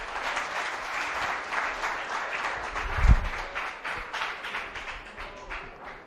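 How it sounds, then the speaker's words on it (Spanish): A lecture audience at a geopolitics conference gives a full, steady round of applause to welcome Dr. Jaime Contreras. It lasts about six seconds, with one dull thump partway through and no voices over it. "Vamos a recibir al doctor Jaime Contreras con un fuerte aplauso para que inicie su conferencia."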